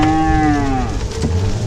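Cattle low loudly and close by during a long cattle drive, one long drawn-out moo that trails off, followed by softer lowing from the herd.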